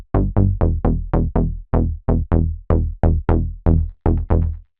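Analog-style plucky synth bass sample playing a sequence of about fourteen short, punchy notes with quick decays, loud and upfront with no other sounds or voices.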